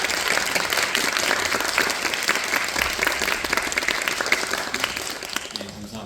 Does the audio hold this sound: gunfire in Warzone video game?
no